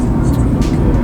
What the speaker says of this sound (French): Voilà, on est dans le taxi à Tokyo.